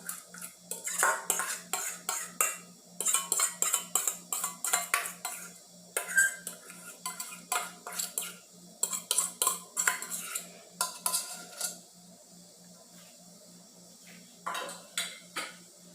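Homemade panettone dough being mixed with beaten egg yolk in a bowl, giving quick, rhythmic clinking and scraping of a utensil against the bowl in bursts, pausing briefly before a final few strokes.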